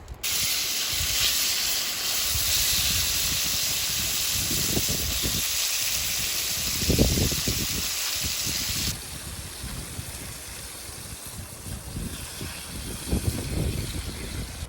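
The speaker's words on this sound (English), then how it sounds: "So this is sizzling away nicely now" Steady, loud hissing sizzle of chicken frying in a pan for curry, continuous throughout with occasional low thumps and crackles.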